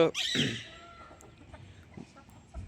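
A hen gives a short burst of clucking near the start, then quieter scattered clucks and faint farmyard noise follow.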